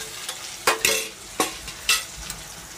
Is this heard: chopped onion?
yes